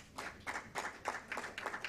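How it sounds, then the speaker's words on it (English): A small conference audience claps for a speaker, a few sparse, uneven bursts of hand claps spaced roughly every quarter second, fairly faint and without talk over them. "a round of applause to Alana."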